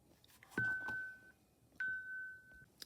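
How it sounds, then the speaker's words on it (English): A doorbell rings twice in a quiet room, each a clear sustained electronic tone fading out after under a second. "That was the doorbell."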